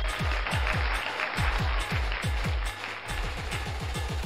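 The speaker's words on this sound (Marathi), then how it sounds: "जोरदार टाळ्या होऊन जाऊ देत पुन्हा एकदा निसोडियम साठी" Crowd applause at an agricultural product launch event: a dense, steady wash of clapping with a loud, regular thumping beat pulsing underneath throughout.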